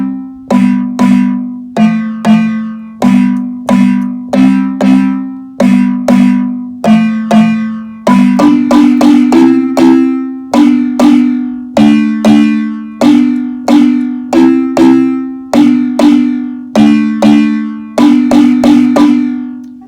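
Shamwari's chord break played on high-pitched instruments: a steady rhythm of bright, plucked chord hits, regular and loud, with the chords shifting partway through and continuing to the end without any voices.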